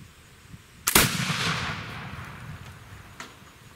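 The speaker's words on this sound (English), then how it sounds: "Black powder shoots a slow-moving slug that's a lot more powerful than you might think." A Brown Bess India Pattern black powder musket fires a .75 caliber slug outdoors: one sharp, loud blast followed by a long rolling decay, with a fainter thump a couple of seconds later.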